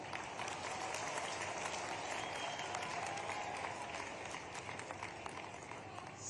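Crowd applause at a public inauguration ceremony in Shujalpur, Shajapur district, a broad continuous clapping wash from many people, steady and fairly distant, lasting the whole stretch without talk.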